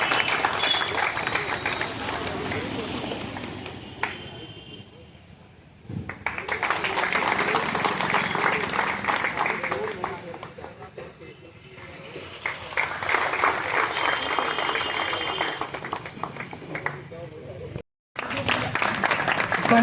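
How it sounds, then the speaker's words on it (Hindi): An audience claps in two long waves of applause, swelling and fading with quieter gaps between them, while a man addresses the crowd at a public gathering. "ताली बजाएं।"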